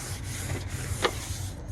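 Steady close rubbing and scraping as dried caulking is worked off a vinyl impact window frame, a continuous gritty friction with one brief sharper squeak partway through.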